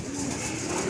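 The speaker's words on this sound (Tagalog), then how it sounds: "nag-iisa na lang ibon namin doon, si Box The One." A racing pigeon cooing close by, a soft throaty murmur that rolls on over a steady background hum.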